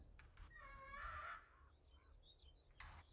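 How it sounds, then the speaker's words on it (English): A bird calls in a video game, a harmonic squawk about a second long followed by a few faint chirps, with no talk over it. "Shut up, bird. Go away."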